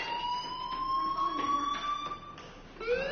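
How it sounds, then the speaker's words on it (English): A fire alarm sounds in the video game Life is Strange, a steady electronic tone that slowly rises in pitch, with brief pulses, a short dip and a restart near the end, loud and continuous with no talking. "do you hear that fire alarm?"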